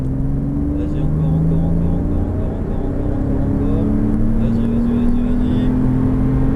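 A car engine pulls harder during a driving course, its hum rising in pitch as it accelerates, steady and close, with a person talking over it.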